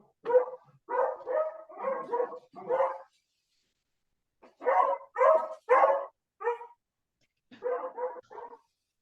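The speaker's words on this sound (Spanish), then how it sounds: "que mi perrito se está haciendo presente" A small dog barks in three bursts of rapid, sharp yaps, several barks each separated by short pauses, close and clear against a quiet indoor background.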